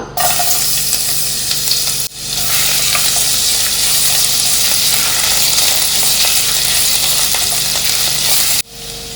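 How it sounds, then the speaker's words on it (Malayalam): Chopped garlic and vegetables sauté in hot oil, a loud, continuous sizzle and crackle with brief pauses near the start and end as the pan is stirred. "എണ്ണ ചൂടായതിനു ശേഷം നമുക്ക് വെജിറ്റബിൾസ് സോട്ട് ചെയ്തെടുക്കാം"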